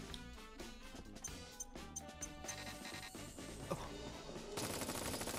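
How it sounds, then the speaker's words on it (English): Gunfire in the video game Final Fantasy VII Remake, rapid bursts of shots over busy game music and effects, moderately loud with no talk. "Is it actually shooting bullets or no?"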